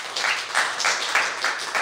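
Brief burst of audience applause during a show-of-hands vote, bright clapping rising and falling in quick uneven surges before fading slightly.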